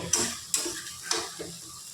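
Okra (bhindi) being stirred in a frying pan, a spatula scraping in three or four quick strokes over a steady close sizzle, with no voices.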